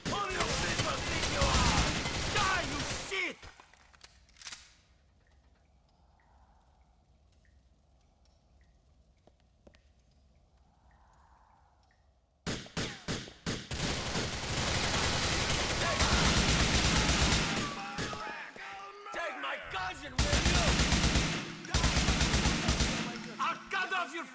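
Bursts of rapid gunfire in Grand Theft Auto IV, loud and dense for a few seconds, then a quiet gap with low ambient sound, before heavy firing resumes in clustered volleys with brief pauses.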